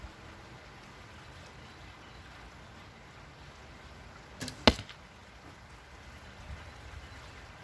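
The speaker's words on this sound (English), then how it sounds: "This arrow I'll shoot" A Lwano carbon arrow is shot from a bow outdoors, a single quick whoosh and sharp thwack standing out briefly against a faint, steady background hiss.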